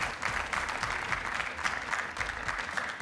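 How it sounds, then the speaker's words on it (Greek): Steady enthusiastic applause from a game show studio audience on a Greek Wheel of Fortune episode, dense continuous clapping filling the whole stretch without a break. "Τώρα χειροκροτήστε τη Βανέσα"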